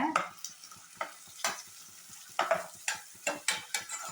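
Onions and green chillies fry with cumin in a pan. A faint sizzle sits under repeated spoon-scraping stirs that come in quick, uneven strokes, close and fairly quiet, with no talking.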